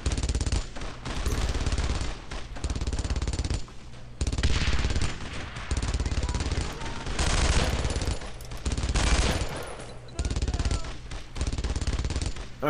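Sustained machine gun fire in Brothers In Arms: Road to Hill 30, a World War II shooter, loud and close, pouring out in long continuous bursts with brief breaks between them.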